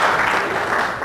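An audience applauds in a dense, continuous burst of clapping that holds loud and steady for about a second.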